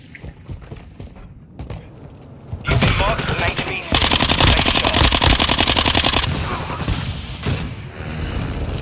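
Sustained automatic gunfire in Call of Duty Modern Warfare 2 multiplayer, loud rapid bursts of rifle shots that build to a dense, continuous stream, with mechanical clanks and game voice chatter mixed in.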